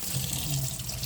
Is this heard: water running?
yes